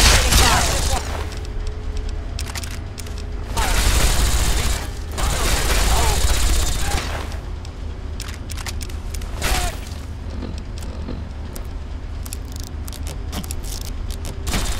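Heavy gunfire in the Fallout 3 video game, with rapid automatic bursts and booming shots in loud waves, peaking mid-clip then continuing more sporadically beneath game voices.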